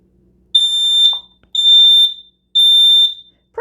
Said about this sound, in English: let me push the button for 3 seconds to test it out so you can hear what it sounds like